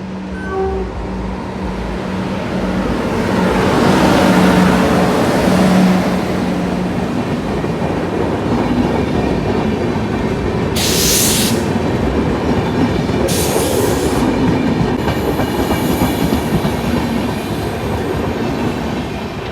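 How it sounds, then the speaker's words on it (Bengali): A passenger train on the Siliguri–New Alipurduar line rolls past a level crossing in monsoon-season forest plains, a loud, sustained close rumble and rhythmic wheel clatter with two brief high squeals partway through. "শিলিগুড়ি নিউ আলিপুরদুয়ার যে রেলপথটা, তার একটা লেভেল ক্রসিংয়ে এখন দাঁড়িয়ে। ট্রেনটা নিউ আলিপুরদুয়ার থেকে"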